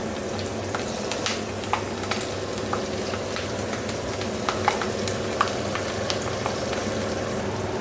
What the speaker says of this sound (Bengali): দেখো এই যে মাছগুলো ভাজা হচ্ছে, দেখো এই যে মাছগুলো ভাজা হয়ে গেছে।